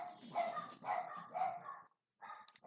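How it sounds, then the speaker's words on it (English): Dogs bark indoors in three quick close bursts, then a short pause before more barking and yips. "the dogs decide to start barking at the end of the video"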